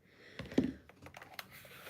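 Keystrokes on an inexpensive mechanical keyboard with a deep, thocky tone: a short run of clicks with one stronger press near the middle and another later, close and fairly quiet, with no talking.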